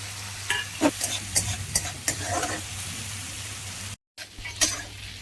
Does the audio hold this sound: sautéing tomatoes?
yes